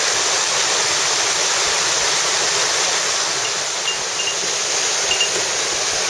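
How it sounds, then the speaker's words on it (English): A waterfall beside a rock wall on a misty mountain trail in Japan, heard as a steady, unbroken broadband rush of falling water that holds an even level throughout, with no voices. "there's a waterfall on the side over here"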